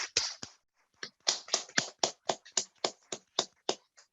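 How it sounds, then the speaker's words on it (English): An audience claps in response to a request, a burst of separate hand claps building into a fairly regular run of loud, sharp claps close by, with no talking. "Please clap your hand."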